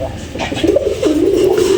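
Pakistani fancy pigeons coo in a steady, rolling call that rises and swells through the clip, close and fairly loud over faint background murmur.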